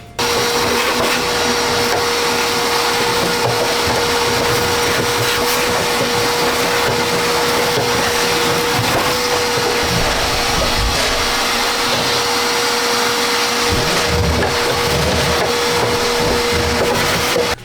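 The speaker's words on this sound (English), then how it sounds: "now I can vacuum that out and the grease is going to be gone" Vacuum cleaner runs loud and close, with a continuous steady whine and roar as it sucks grease absorbent out of the inside of a Yoder YS640S pellet grill.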